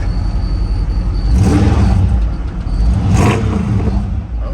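A 1964 Chevrolet Impala's engine idles with a deep rumble, then swells loudly in two throttle blips about two seconds apart, each settling back to a low, steady burble close by.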